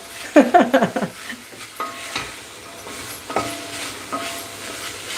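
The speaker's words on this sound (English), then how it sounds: "you can hear that the food is cooking and browning a little" Spicy oats sizzle in a pan with a few clattering stirs and scrapes near the start, then a softer steady frying hiss continues.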